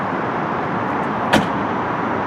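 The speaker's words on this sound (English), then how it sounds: "You have to slam the rear glass." A single sharp slam as the rear glass of a Dodge Viper is shut, a brief thud in a steady outdoor rumble of background noise.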